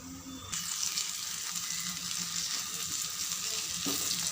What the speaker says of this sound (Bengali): আর এটাকে আমি একদম লো আছে ভাজছি